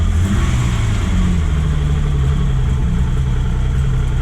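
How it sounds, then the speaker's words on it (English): A 1974 BMW 3.0 CS E9, started for the first time in fifteen years, idles loudly and steadily up close with a deep, rumbling, slightly uneven tone. "Well, it's fucking idling."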